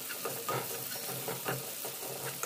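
Garam masala sizzles and fries in hot oil in a pan, a steady crackling hiss with soft rhythmic stirring scrapes, close and fairly quiet with no talking.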